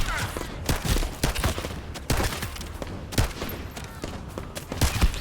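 Sniper rifle gunfire in the shooter game The First Descendant, a string of sharp, loud shots at irregular intervals, each a broadband crack, with a short game-audio tail between them.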